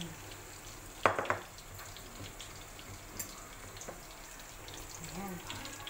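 Onion sautéing in a pan for Chinese-style pancit bihon: a steady, close sizzle with a few sharp utensil clanks near the start.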